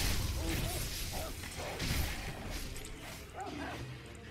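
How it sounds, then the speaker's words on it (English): Dogs bark and yip in the Sekiro: Shadows Die Twice video game, several short barks scattered over a busy background of game sounds with some speech-like noise. "it's like where these dogs come from"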